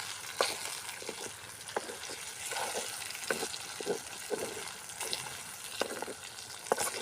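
Boneless chicken pieces fry in a pot for a village-style pepper chicken, giving a continuous soft sizzle with intermittent scraping and clinking from stirring.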